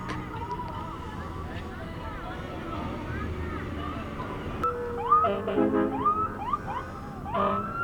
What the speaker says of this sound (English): we've been hearing the sirens since they left